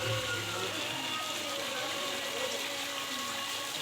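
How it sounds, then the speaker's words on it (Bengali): A water fountain at the 60-foot Mahaprabhu temple in Nabadwip gives a steady, even rush of splashing water that fills the space without pause. "এদিকের ঝর্ণাটা"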